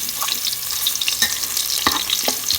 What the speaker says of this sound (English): First thing we do is to saute the ginger.